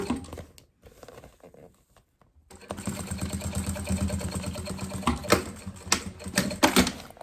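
A sewing machine stitches bias binding onto a fabric box pencil case, a fast mechanical chatter that starts after a brief pause and runs steadily with a few louder clacks near the end.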